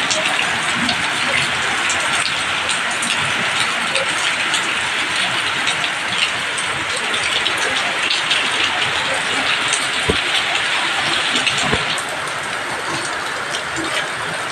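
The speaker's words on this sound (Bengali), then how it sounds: "দেখো কিভাবে হচ্ছে বৃষ্টি" Rain falls in a steady, dense hiss that stays loud and continuous, easing slightly toward the end, with no voices.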